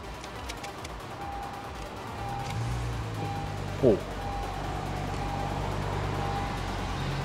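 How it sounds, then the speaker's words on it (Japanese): A Honda CR-Z hybrid sport compact starts up about two seconds in, then settles into a steady, low, fairly ordinary idle rumble that continues to the end, with a brief spoken exclamation. "さあエンジンかけてみましょう。"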